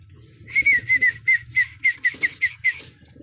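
A racing pigeon coos close by in a quick series of about ten rhythmic, throaty notes over a faint low background hum.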